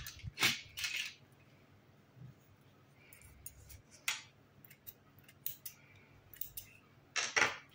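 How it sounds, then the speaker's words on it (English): Scissors snip crochet yarn while finishing an amigurumi piece, heard as a few sharp, quiet metallic snips and clicks close by, spaced apart over faint background. "cut your yarn."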